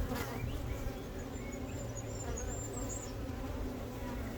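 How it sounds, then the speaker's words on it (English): Honeybees buzz in an open hive frame during a colony inspection, a dense, continuous hum of many insects close by, with one bee doing a waggle dance among them. "There's a bee there in the middle doing a waggle dance."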